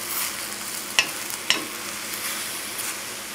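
Mushrooms sauté in a pan over a flame, giving a steady soft sizzle and hiss close by, with two brief sharp crackles or spatters standing out near the start.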